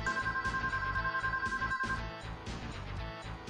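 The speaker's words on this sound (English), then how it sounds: "Wait, my cell phone is ringing." A cell phone rings in the video game Scar of the Doll, a steady repeating electronic ringtone pulsing evenly for about two seconds over low background music, with no talking.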